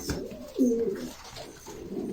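Flight pigeons, a paired couple, give a close, low cooing call, one drawn-out throaty coo followed by a softer rolling murmur.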